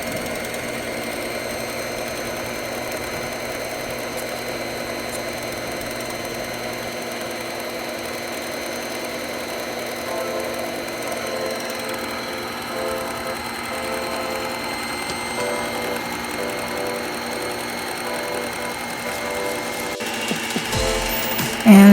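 A stand mixer whips macaron meringue at high speed, a steady close mechanical whir and rattling drone that holds evenly for the whole stretch and rises slightly at the end.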